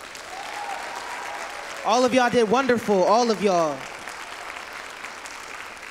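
Continuous audience clapping for competition participants at a Black History oratorical event fills the background while a voice speaks over it in the middle.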